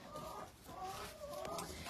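Sick chickens at a rescue animal shelter cluck softly in a quiet pen, with faint murmuring calls drifting over low background noise.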